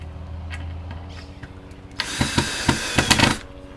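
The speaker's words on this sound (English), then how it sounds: "I'll take my screwdriver. Put it in place." A power screwdriver drives a screw into wood while a ceiling fan is being mounted, a short burst of whirring with a few ratcheting pulses as the screw seats, close and alone.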